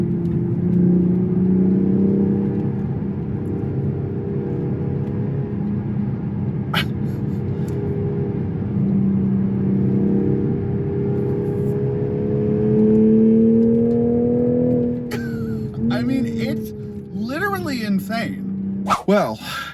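A 2024 Toyota GR Supra 3.0 Premium drives along with a steady engine hum and road rumble, the engine note rising and falling as it moves. Near the end someone talks over the engine.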